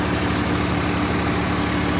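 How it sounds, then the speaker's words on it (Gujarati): A tractor engine runs steadily under load while powering a Param basket-model thresher crushing mustard crop at night, a loud, dense, constant drone with a low throbbing pulse and no voices. "લગભગ સો આરપીએમ જેવા ડ્રોપ કરીને ટ્રેક્ટર પાછું રિકવર થાય છે એ રીતનું પરફોર્મન્સ છે ટ્રેક્ટરનું"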